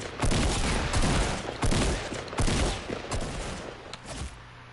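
Rifle gunfire in the video game Fortnite, several loud, close bursts of rapid shots about a second apart, each dying away, with no talking.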